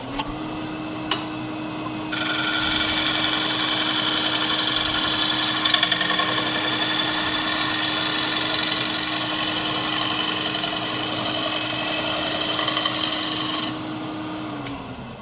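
A bowl gouge scrapes across the inside of a wooden bowl spinning on a lathe, giving a steady, loud rasping cut over the motor's constant hum for about eleven seconds before easing off, with no talk.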